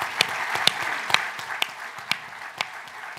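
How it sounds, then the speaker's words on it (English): Scattered applause from an audience at an onstage conversation between Arianna Huffington and Johnson & Johnson's Alex Gorsky: a handful of sharp, separate claps rising from a steady hiss, fairly faint and with no voices. "Let's give you guys a round of applause."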